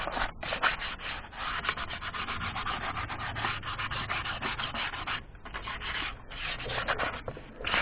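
An angle grinder sands wood for a speargun stock in a harsh, continuous rasp, broken by brief pauses as it's lifted and pressed again, loud and close.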